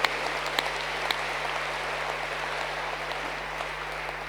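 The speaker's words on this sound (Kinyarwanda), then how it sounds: "Can we quick clap for the Lord?" A church congregation at Restoration Church Masoro applauds for the Lord, producing a soft, steady wash of many hands with a few sharper claps near the start, fairly distant and low in level over a faint hum.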